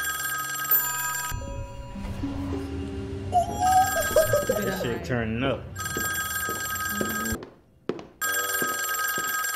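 A telephone rings with a repeating bell-like electronic tone, broken by a stretch of music and voices reacting over it, then the ringing returns loud and clear.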